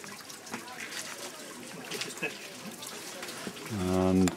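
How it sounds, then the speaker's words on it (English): Water runs steadily through an Inca stone channel at the Sun Temple in Peru, a continuous trickling wash close by, with someone speaking over it and a short tonal sound near the end. "You can hear the water running."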